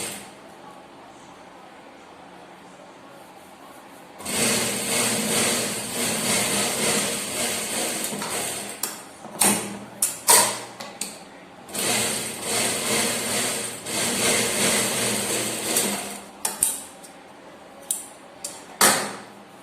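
A sewing machine runs a double seam along the edge of a blouse in two long stretches of steady, close whirring and clatter, separated by a pause with brief knocks and handling sounds.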